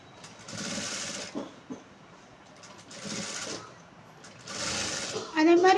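A sewing machine stitches a blouse seam in three steady whirring bursts separated by short pauses, with faint handling noises between runs.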